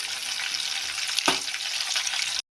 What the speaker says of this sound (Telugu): అల్లం అయితే పచ్చివాసన పోయే వరకు వేయించాలి